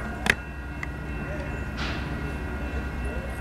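A train rumbles steadily past at moderate distance, a low continuous roar with a couple of brief sharp clanks near the start.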